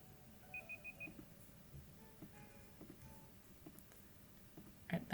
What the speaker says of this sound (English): All right, that's your timer